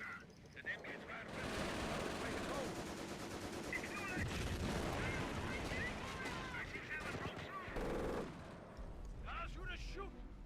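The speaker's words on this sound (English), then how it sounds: "Taking fire on our position." Dense, continuous gunfire and explosions in the Blitzkrieg mod of a war game, with overlapping rifle and machine-gun bursts throughout, loud and sustained, while voices shout over the battle.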